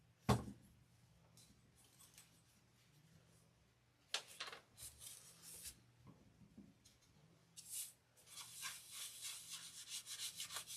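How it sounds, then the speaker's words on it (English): Fingers rubbing antique wax onto a small craft ornament, producing soft, intermittent brushing and scuffing strokes, faint and close, with short louder rubbing bursts toward the end. "So all I'm doing is rubbing it on, and when it's the darkness I want, then I'm good."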